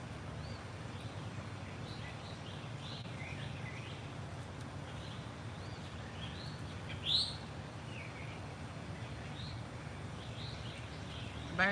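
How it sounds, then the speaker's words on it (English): A black bird with red wings sings outdoors among greenery, its short chirps and whistled calls coming from a little distance over a low steady background hum, with one sharper call near the middle. "It's a black bird with like red on the side of, oh, it's so pretty. With like red wings or something like that."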